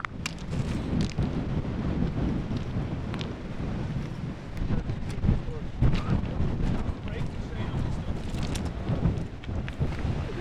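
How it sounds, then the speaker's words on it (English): Strong northwest storm wind gusts across a small Arctic island in the Northwest Passage, a loud continuous roar with low buffeting rumble on the microphone throughout. "this big, massive northwest storm that's pumping in on this little island"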